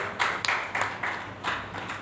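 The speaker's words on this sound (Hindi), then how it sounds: "एक बार जोरदार तालियां आपके लिए" A crowd at a poetry recital during a Ramotsav stage event claps in short uneven bursts, rhythmic and fairly close, with a few sharper individual claps standing out.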